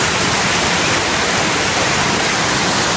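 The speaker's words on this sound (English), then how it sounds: "all this water coming from this direction is what's coming over the spillway" Heavy water pours over a farm pond spillway after a spell of heavy rain, making a loud, steady, unbroken rushing roar with no voices.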